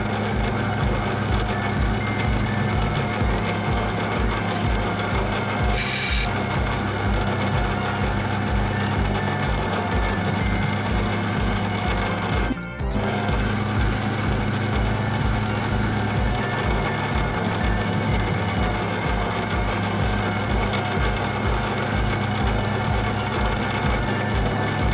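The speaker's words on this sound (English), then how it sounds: "Here I'm making the adjustment to machine the taper of the bearing." Lathe or machine work cutting the taper of a steering bearing for a 1992 Suzuki RM250 motorcycle restoration, a steady loud mechanical drone and hum running continuously with a brief pause midway.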